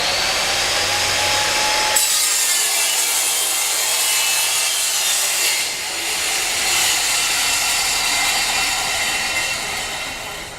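A vertical panel saw slices through wooden sheet stock with a steady, loud rasping whine that runs throughout, shifting in tone partway as the blade carries on through the panel.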